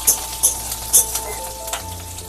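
Garlic and green chillies frying in a pan give a steady low sizzle, with a few sharp crackles and pops rising above it across a couple of seconds, close by and moderately loud, with no voices.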